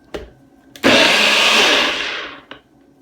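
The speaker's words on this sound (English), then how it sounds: "I prefer to ground this in a mortar, so I'm going to just blend those separately" Garlic and cumin seeds whir in a blender in a loud, steady burst of just over a second, framed by a few soft knocks before and after.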